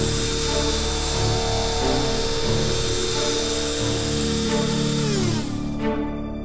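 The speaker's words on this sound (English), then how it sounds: "the CNC router table that's gonna take the cream off of the cookie" A CNC router table spins up loudly and cuts the cream filling from Oreo cookie halves, giving a sustained high whine with steady harmonic tones for several seconds before it abruptly winds down.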